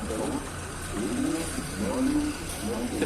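A Daewoo Nexia 1 car engine revs at a used-car market in Osh, giving a mid-pitched, nearby drone that rises and falls in surges, with faint background voices.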